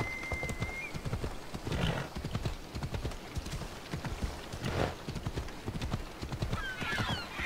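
Horse hooves clip-clopping at a gallop in Assassin's Creed Odyssey along a coastline, a steady rapid rhythm at moderate loudness with occasional whinnies and no talk.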